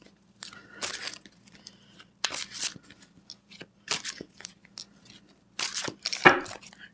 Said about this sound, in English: I will pull the cards again so I have more cards.